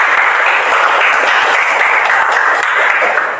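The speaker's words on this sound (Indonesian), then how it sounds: "Tepuk tangan bagi." A school class in Indonesia gives a round of applause during a history lesson, with steady, close clapping from many hands that fills the room for a few seconds.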